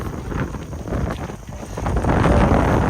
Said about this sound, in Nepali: उही हावा